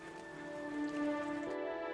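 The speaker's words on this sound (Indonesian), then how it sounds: "Dina, hujan!" Rain falls in a soft, steady patter under a faint tonal hum, continuous for about two seconds with no voices.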